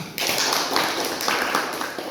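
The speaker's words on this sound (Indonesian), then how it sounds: "Kasih tepuk tangan." A burst of hand clapping from a group in a classroom, steady and fairly loud, continuing throughout without a break.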